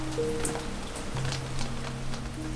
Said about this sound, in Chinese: 最近一直在下雨